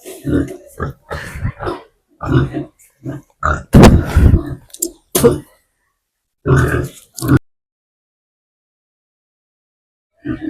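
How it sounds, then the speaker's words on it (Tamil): Piglets on a pig farm give short, rough grunts in scattered bursts, loud and close, mixed with a person talking nearby and a few silent gaps. "இங்க பாருங்க பன்றி குட்டியில இருக்கு"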